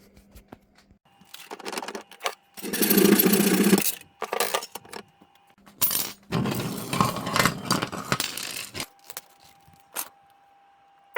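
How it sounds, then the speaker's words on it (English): Cutting a threaded rod for a steel scale model: uneven bursts of harsh scraping and grinding come in several separate runs, loud and close, with short quiet gaps between them. "So we will cut the first threaded rod at this length."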